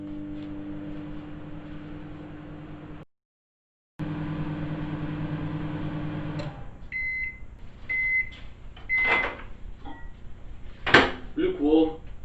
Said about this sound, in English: pop this into the microwave for 15-30 seconds just to make it lukewarm